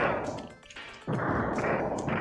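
Harsh, crunchy retro Super Nintendo-style explosion bursts from an Earthworm Jim game, two loud noisy blasts separated by a brief dip, sounding lo-fi and digital.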